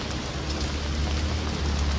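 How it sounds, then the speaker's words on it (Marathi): Heavy rain pouring steadily in a town during the monsoon season, a dense continuous hiss with a deep low rumble underneath, loud and unbroken throughout. "कारण की पाऊस लय खराब आहे"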